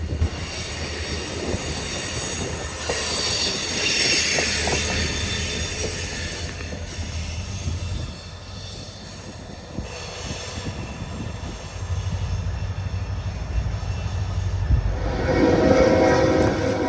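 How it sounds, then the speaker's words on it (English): A track inspection train rolls past on the line near Kelly, Kentucky, a loud, sustained rumble of wheels with a horn blast and squealing wheels, close by and without talk. "This train checks the alignment of the tracks and the gauge and all of that kind of stuff."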